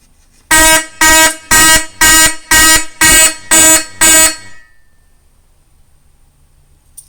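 Fire-Lite MS-9600UDLS fire alarm system sounding during a heat detector test: eight loud, evenly spaced horn blasts in a steady rhythm, then silence.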